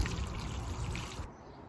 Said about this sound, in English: give that a bit of a water as well.